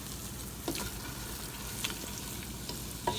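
Onions frying and being stirred in a pan for Ethiopian doro wot chicken stew, a steady close sizzle with a few soft scraping stirs and spoon taps, no talking.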